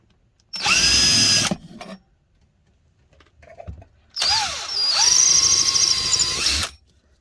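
A power drill whirs in two bursts into wood, a short one and then a longer run, with its pitch dipping as the bit bites in, close and loud.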